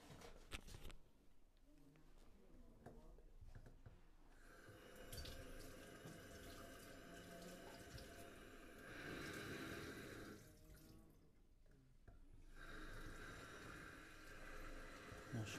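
Water running from a kitchen sink tap, a steady splashing flow that swells and eases over time, with faint background noise and no clear talk.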